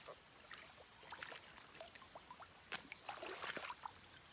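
Creek water splashes and trickles as a freshly caught creek chub is rinsed, in soft, uneven sloshes that are faint and close, with a brief burst of splashing in the middle.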